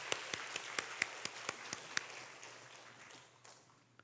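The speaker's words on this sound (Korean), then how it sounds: "우리 박수 한번 해주십시다" Sparse, slow claps from a few people in a church congregation after a choir's performance, each clap sharp and distinct in a steady rhythm that thins out, over a low constant hum.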